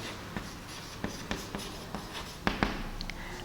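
Chalk or a marker taps and scratches across a classroom board in short, irregular strokes during a computer science lesson, close and moderately loud with no talking.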